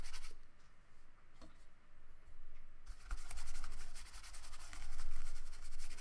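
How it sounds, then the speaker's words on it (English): A paintbrush scrubs watercolor paint onto paper in soft, continuous scratchy strokes, quiet and close, growing slightly rougher and busier partway through. "So just kind of scrubbing it on. Scrub, scrub, scrub."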